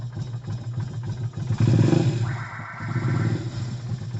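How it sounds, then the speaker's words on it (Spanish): Vento Thunder 250 motorcycle engine cranks, catches and settles into a rough idle. The close mechanical chatter rises in a burst partway through and then keeps running unevenly. "desbloqueamos en la parte eléctrica y prendemos la motocicleta"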